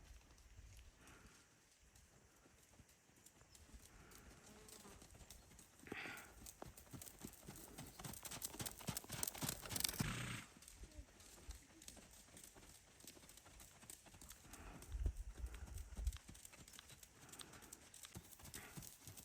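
A pony trots on a working surface during a schooling session, its hooves clip-clopping in a quick even rhythm. The hoofbeats are faint and distant, with a couple of louder rustling bursts partway through.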